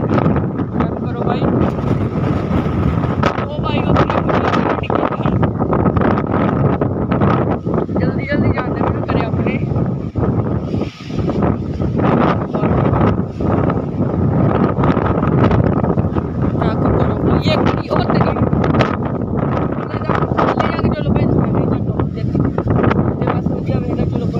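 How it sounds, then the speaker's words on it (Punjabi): A strong, gusty wind blows without a break during a dust storm, loud and buffeting the microphone with a constant roar throughout. "ਵੇਖੋ ਬਾਈ ਕਿੰਨੀ ਹਵਾ ਚੱਲਦੀ ਪਈ"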